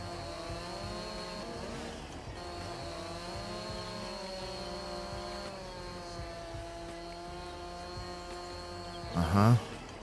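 Tree sawing in Landwirtschafts-Simulator 22, a steady droning machine whine with shifting harmonic pitch running throughout, ending in a brief louder thump.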